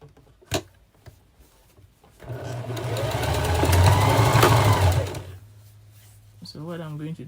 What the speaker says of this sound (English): I'm going to start stitching, making sure what is in the middle is away from the stitch line.